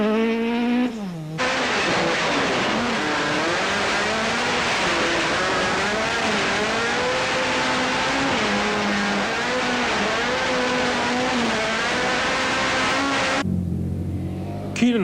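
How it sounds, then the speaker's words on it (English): A Toyota rally car driving flat out on a special stage, its engine screaming loud and close with rising and falling revs and gear shifts, running continuously for most of the span. "we joined them for a feel of high-speed sugar-fueled driving"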